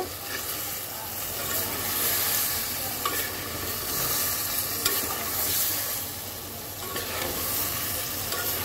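Cauliflower and potato curry with peas is stirred in a pan after a little water is poured in, a continuous close sizzle and wet bubbling with occasional scrapes and knocks of the spoon on the pan.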